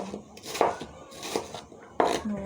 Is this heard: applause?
no